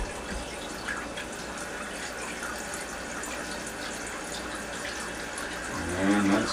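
Water rushes steadily into a toilet tank as it refills after a flush, a constant hiss and trickle with a louder gurgling swell near the end.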